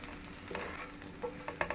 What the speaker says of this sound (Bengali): হালকা ফ্রাই করে নিচ্ছি।